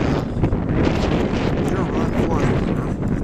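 Strong wind buffets the microphone on a forest preserve trail in a constant loud roar, gusting unevenly, with a person speaking underneath.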